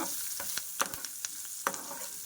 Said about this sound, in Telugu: మనకి పచ్చిమిర్చి కరివేపాకు ఇవి ఫ్రై చేసుకోవాలండి